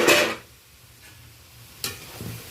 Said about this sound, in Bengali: আমি খন্তির সাহায্যে ভালো করে শাকটা নেড়ে নিচ্ছি